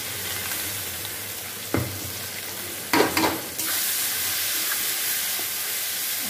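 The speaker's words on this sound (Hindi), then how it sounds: "देखिए यहाँ पे हो गया है प्याज फ्राई, और इसमें डाल देते हैं ये मसाला जो हमने पीसा था" Ground masala paste fries with onions in a pan for paneer butter masala, giving a constant hissing sizzle with a couple of brief knocks and a louder stirring burst midway before the sizzle settles, steady and close.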